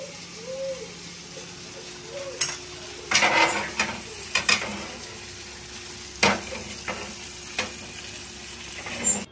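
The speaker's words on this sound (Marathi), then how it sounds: "कमी तेलात तळायचं आहे ना" Bangda mackerel fries in a small amount of oil, giving a moderate sizzle with clinks and scrapes from stirring. A few sharp bursts of spatter rise above the cooking noise, and a faint bird call sounds early on.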